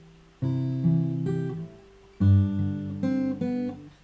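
Fingerstyle acoustic guitar plays measures 5 and 6 of a song from Final Fantasy X, with plucked melody notes over bass, in two phrases separated by a short pause, close and clear.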